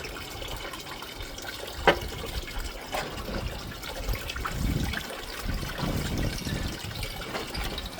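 Water runs steadily down a gold sluice outdoors in Scotland, a continuous trickling wash with a sharp splash or knock near the two-second mark.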